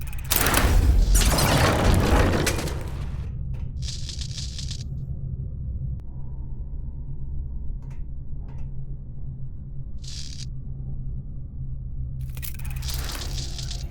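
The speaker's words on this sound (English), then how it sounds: "The explosions didn't affect the room." Explosions in a video game: a loud deep boom at the start, then a low steady rumble with a few faint distant thuds and crackles scattered through, no talking.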